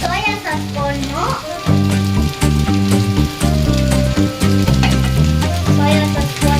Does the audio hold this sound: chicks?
no